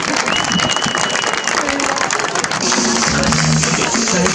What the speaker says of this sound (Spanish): Un aplauso también para Colindres